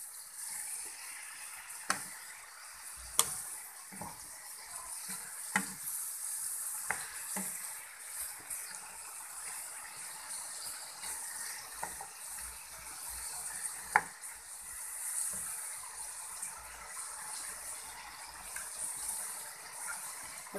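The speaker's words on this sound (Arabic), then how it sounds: "تني مع البصل لحد ما تدبل، وحطي لها بقيه الاضافات، فصين الثوم هحطهم، والخضار" Onion, garlic and vegetables sauté in a pan with a steady soft sizzle, punctuated by occasional sharp clicks of a utensil stirring against the pan, close and fairly quiet.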